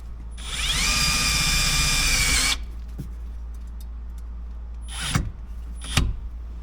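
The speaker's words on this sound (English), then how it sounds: "I'm going to put a self-tapper screw right there" A power drill drives a self-tapping screw to fix a ground wire during a remote start install in a 2012-2015 Honda Civic: one steady, loud two-second whine, then a few faint clicks and knocks.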